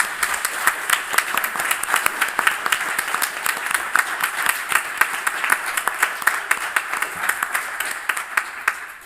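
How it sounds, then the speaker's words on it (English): An audience applauds a new doctor after a PhD defence ceremony at Maastricht University, dense steady clapping from many hands filling the hall, sustained evenly for the whole stretch with no voices over it. "Let's clap again."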